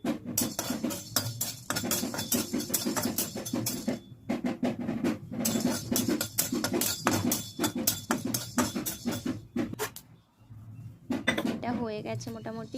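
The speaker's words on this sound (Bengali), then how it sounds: "এবার শুকনো কড়াইতে আমি কিছু মশলা ভেজে নেব।" Whole black pepper, cinnamon pieces, cloves and cardamom are dry-roasted and stirred in a dry wok, giving close, rapid metallic scraping and clinking in bursts separated by short pauses.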